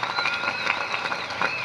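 Audience applause at a 2026 community college commencement ceremony, honoring athletes including a national champion shot putter; dense, steady clapping from a large crowd throughout, with a faint voice mixed in.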